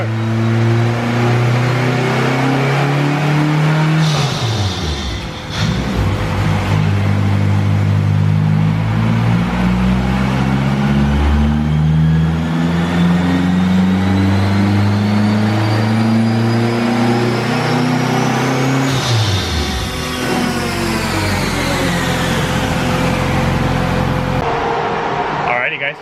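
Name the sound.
Honda Civic AWD K-series engine revving during a pull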